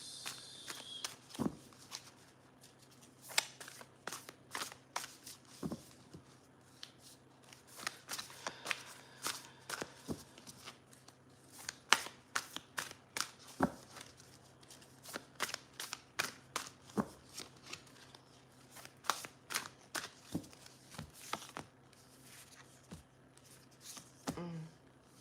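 Tarot cards being shuffled in a quiet room for a reading, giving repeated crisp riffling snaps and soft card clicks in irregular bursts, fairly close and moderately loud, with no talking.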